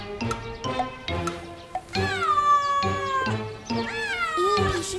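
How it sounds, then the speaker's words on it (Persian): A neighbour's cat meows close and loud, starting with a series of short calls and moving into long drawn-out wailing meows, with no speech over it. "این پیشی گربه همسایه‌مونه"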